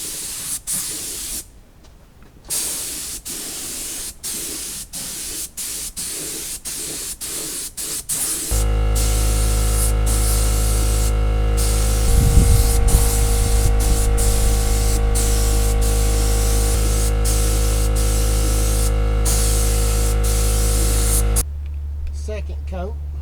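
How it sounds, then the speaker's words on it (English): A spray gun spraying clear coat hisses in short bursts, then runs as a long continuous spray over a steady compressor hum before cutting off. "we're about to spray some clear"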